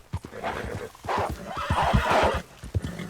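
A horse in the Red Dead Online video game neighs loudly and close, a drawn-out whinny with clip-clop hoofbeats running steadily beneath.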